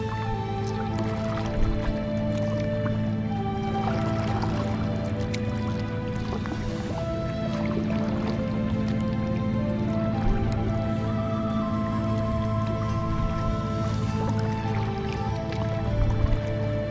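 A kayak paddle dips through the still backwaters of the Colorado River among cattails. Soft drips and squishy strokes repeat steadily and close by over a continuous low background.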